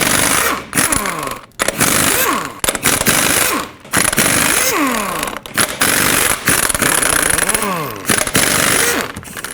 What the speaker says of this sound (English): use your 22mm socket and remove all 8 of your lug nuts